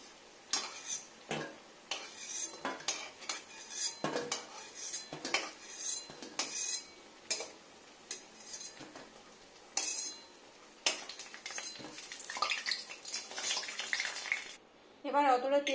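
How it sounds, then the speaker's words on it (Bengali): Pieces of arum (taro) frying in oil in a pan, stirred with a metal utensil that clinks and scrapes repeatedly against the pan over a soft sizzle. "এবার ভেজে নিচ্ছি"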